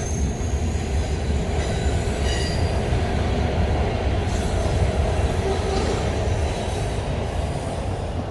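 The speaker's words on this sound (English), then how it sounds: "I had some train pollution." Passing train in the background, a loud continuous rolling rumble of railcars with faint wheel squeal and clatter running steadily from start to finish.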